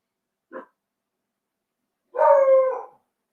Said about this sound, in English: Oh, don't start barking.